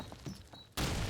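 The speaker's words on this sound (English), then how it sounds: "Nades landing over near him." Grenade blast in Call of Duty 2 during a competitive match: quiet muffled game ambience with faint thuds, then one sudden loud explosion bursting in near the end and ringing on.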